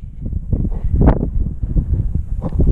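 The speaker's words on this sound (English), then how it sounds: "I'm sorry I'm shouting, it's windy" Strong wind gusts buffet the microphone on a mountain hike in Scotland's Torridon hills, a loud, rumbling, uneven roar with no voice heard.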